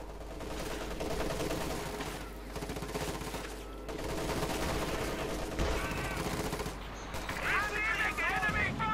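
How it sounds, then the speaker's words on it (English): Battle fire from the Company of Heroes 2 video game, including a pack howitzer firing white phosphorus artillery, forms a continuous rumbling barrage of shots and blasts under a commentator's voice. "white phosphorus being actually used by the pack howitzer"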